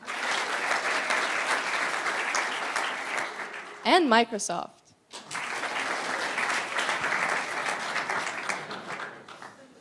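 A conference audience at a youth conference in Riga breaks into sustained, even applause on both sides of a brief spoken pause. The clapping is loud and close and builds again after the short gap.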